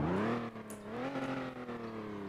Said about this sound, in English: Some decent revving, I guess, from this car.